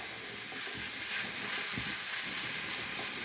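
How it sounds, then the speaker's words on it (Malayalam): Sliced onions frying in a pan for a Kerala coconut curry, a steady bright sizzle and hiss that continues throughout at moderate level. "അപ്പോൾ അതാ ഉള്ളി ഏതാണ്ട് മൂത്ത് തുടങ്ങി വരെയാണ്."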